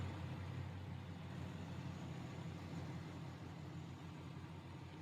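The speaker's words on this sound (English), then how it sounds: "It just purrs the entire time that it's just sitting here idling." A 2001 Jaguar XKR Silverstone idles steadily, a low smooth supercharged V8 hum that stays even and unbroken throughout, fairly quiet and alone.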